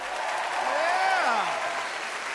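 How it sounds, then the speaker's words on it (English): Brief crowd applause at a comedy show in New Jersey, moderately loud and continuous, with a voice, whooping or speaking, rising and falling over the clapping. "Give yourselves a round of applause."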